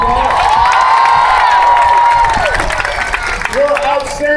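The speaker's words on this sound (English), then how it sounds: "We also have here your former governor, Charlie Crist. Give him a big round of applause." High school audience cheering and clapping for a former governor at a political rally, loud and continuous crowd noise with shouts and whistles layered over the applause.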